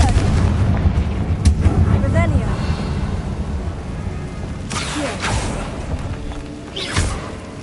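Fiery Confringo spell blast in Hogwarts Legacy gameplay: booming explosive bursts and whooshes over a continuous rumbling game background.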